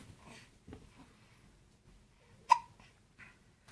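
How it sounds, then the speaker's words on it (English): A toddler's small hiccups come through faintly at home, one sharp hiccup clearly standing out amid quiet rustling and soft vocal sounds. "Do you have the hiccups?"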